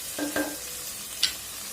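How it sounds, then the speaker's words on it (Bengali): Food frying and being stirred in a pan, a low steady sizzle with a few soft scrapes and one sharp click near the end, with no talk. "এক মিনিটে ভাজি করে নিব"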